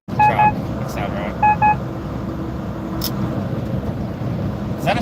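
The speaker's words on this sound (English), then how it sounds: "you can just hear the road and truck" Steady road and truck noise from inside a moving vehicle, a constant broad rumble throughout, with a few short beeping tones near the start and a brief click.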